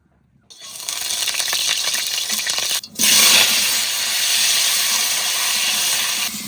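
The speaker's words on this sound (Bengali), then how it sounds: "চাল কুমড়ো একটু ভেজে নিই সর্ষের তেল" Chopped ash gourd fries in hot mustard oil in a kadai. After a brief silence a loud hiss starts, dips for a moment, then surges into a strong, steady sizzle that continues to the end.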